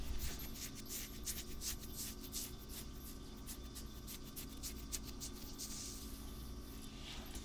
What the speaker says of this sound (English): Scratching my skin ASMR.